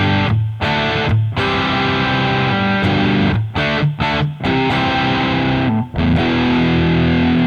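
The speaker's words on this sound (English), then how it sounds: "Not a bad sounding distortion right off the bat" Electric guitar played through a Musiclily Pro true bypass distortion pedal with all knobs at noon, giving a thick, saturated, slightly muddy tone; sustained chords ring loudly with a few brief pauses between them, and nobody speaks.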